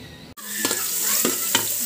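Garlic sizzling in a pan for a tuna spaghetti sauce, a loud steady hiss broken by a few scraping stirs, close up and with no talking.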